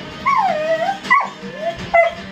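A dog lets out three close, loud whining barks, each rising and then sliding down in pitch, with short pauses between them.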